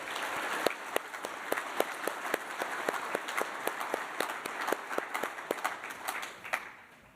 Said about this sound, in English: So I want to give them a round of applause and thank them for these great examples.